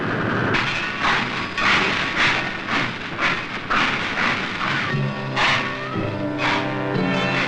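A steam freight train hauling iron ore, coal and limestone to a World War II steel mill town chuffs in steady, loud rhythmic bursts with hissing steam and rail clatter.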